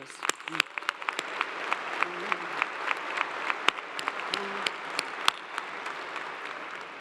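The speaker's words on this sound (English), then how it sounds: "I think that deserves a round of applause." Sustained audience applause fills a university commencement ceremony, dense steady clapping from a large crowd with scattered louder claps standing out near and far, continuing without a break.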